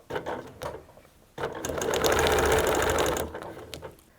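A few quiet clicks and handling taps lead into a sewing machine stitching a short run on a quilt with a ruler, its fast steady needle rattle close and clear, then a few more light taps after it stops.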